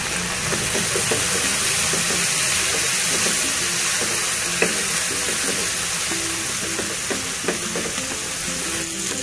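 Khichdi frying in a pan with red chili powder stirred in, a dense continuous sizzle of hot oil with scraping stir strokes and small pops, close and steady throughout.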